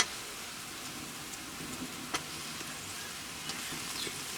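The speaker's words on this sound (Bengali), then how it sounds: "এখন আমি এতে বোয়াল মাছের পিসগুলো একে একে দিয়ে দেব।" Pieces of boal fish frying one by one in a cooked-down spice paste, a faint, steady sizzle with a few soft pops and taps, close but quiet, no voices.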